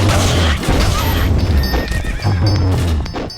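A horse neighs loudly in a video game, with two strong whinnies close up, the second following after a short pause, mixed with some game sound effects.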